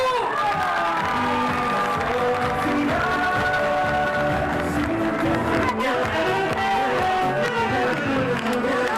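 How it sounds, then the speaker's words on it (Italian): Wedding guests clap and cheer steadily for the bride and groom at Villa Vergine. The sustained crowd noise blends with loud live music throughout. "adesso fatemi sentire forte l'applauso per gli sposi"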